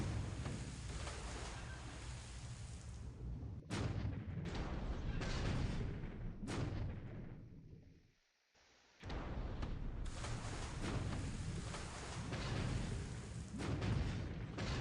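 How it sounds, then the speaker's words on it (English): Naval guns firing from sub chasers during a World War II Pacific naval strategy game, a dense, continuous roar of booming gunfire and explosions with short breaks, loud and close throughout. "our sub chasers are firing"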